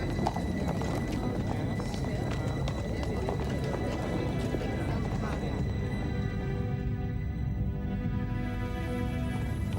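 Exhausted horses clip-clopping as they pull refugee carts loaded with mattresses and household goods through Paris during the First World War, a dense continuous clatter of hooves and wheels with voices mixed in throughout.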